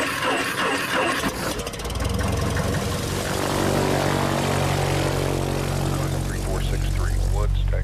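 A small propeller plane's engine starts and settles into a loud, steady drone with a pulsing prop beat close by, and a voice talks faintly over it.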